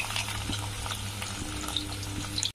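Paneer cubes sizzle steadily in hot oil in a pan at close range, a continuous frying hiss with occasional stirring scrapes and a low steady hum beneath, no talking.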